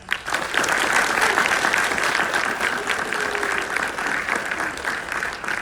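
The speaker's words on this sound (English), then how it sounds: "can we give her a special round of applause?" Audience applause fills a ceremony hall at a high school JAG initiation event, a steady dense wash of many hands clapping that holds for several seconds with no talk over it.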